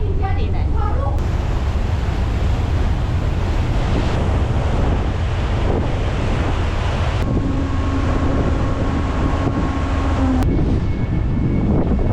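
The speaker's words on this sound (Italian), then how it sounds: "Talmente vento e talmente mare brutto che volano gli schizzi qua sopra" Loud gusting wind roars over crashing rough sea waves on the coast of Sardinia, spray flying, a constant heavy rush with no pauses.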